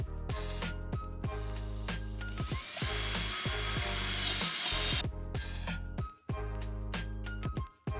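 Power drill pre-drilling and driving screws into a wooden workbench frame, with repeated bursts of whirring and ratcheting clicks and a longer continuous drilling run in the middle, loud and close with no talk.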